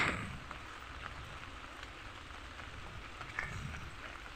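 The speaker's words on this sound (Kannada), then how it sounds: "ನೋಡಿ ಫುಲ್ ಲೈಟ್ ಈಗ ಸ್ವಲ್ಪ ಲೈಟ್ ಮಳೆ ಇತ್ತು" Light rain falls in a steady, soft patter, fairly faint and continuous, with no voices.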